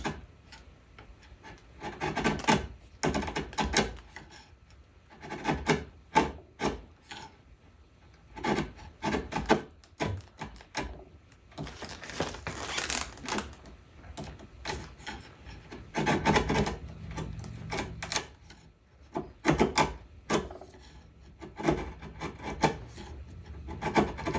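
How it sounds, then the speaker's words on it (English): A chisel scrapes and rasps repeatedly across wood while a rear seat joint is being cut, giving close, irregular strokes in bursts with short pauses between them and no talk. "often I get this chisel and work across."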